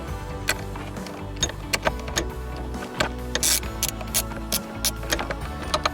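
A fastener is tightened during a Porsche Cayenne battery replacement: close, rapid metallic ratchet clicks in an irregular rhythm with a few sharper snaps, steady and fairly loud with no talking.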